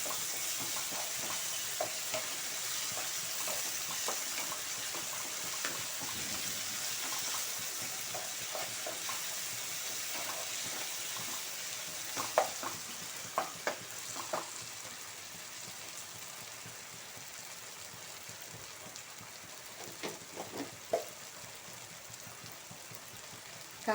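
Ginger garlic paste with turmeric fries in a pan for a dried fish and brinjal curry, a faint, steady sizzle broken by scattered scraping stir clicks, with no talk.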